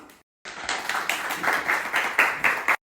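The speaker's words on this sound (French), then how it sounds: "mais on peut les applaudir." A small audience at an informal contest claps after a short silence, a sparse round of hand claps that grows a bit louder and uneven before stopping.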